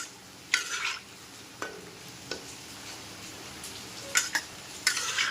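Small malpua frying in a pan give a soft sizzle, broken by a few scraping stirs and light utensil clinks close by.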